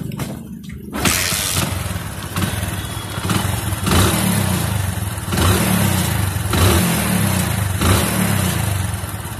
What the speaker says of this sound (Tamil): இப்போ வண்டி ஸ்டார்ட் பண்ணி பார்க்க போகிறோம்.